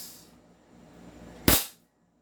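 A single sharp report from a full-steel SRC Wick Pit Viper airsoft pistol fired through a chronograph, loud and close, preceded by a faint fading hiss.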